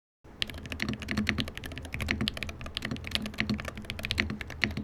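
Fast, steady typing on a Luminkey Magger68 keyboard with Jade Pro switches: dense, crisp keystroke clacks close to the mic, with no talking.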